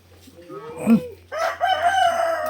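A native rooster crows once, fairly close and clear, its call rising then holding steady, with some faint background noise before it.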